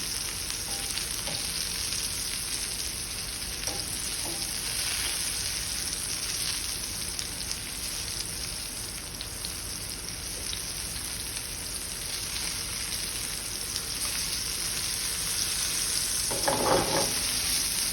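Cut zucchini pieces laid cut side down in a hot pan for sautéing, producing a steady close sizzle like light rain, with a few soft clicks and one brief louder clatter near the end, no talking.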